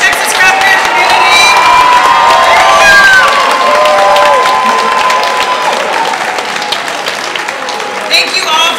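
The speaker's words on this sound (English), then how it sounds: "round of applause for our sponsors, our DJ, our brewers, our judges, our Texas Craft Beer community." Loud applause and cheering from a crowd at a Texas craft beer awards ceremony, with whoops, shouts and clapping in a dense roar that peaks and then gradually thins, voices rising over it.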